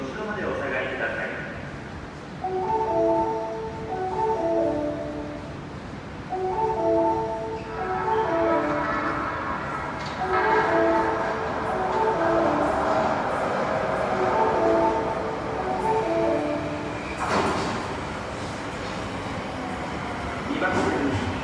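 An Osaka Metro train on the Midosuji or Tanigawa line pulls into a station platform, a steady rumbling roar building after a chiming melody, with a Japanese platform announcement running over the top.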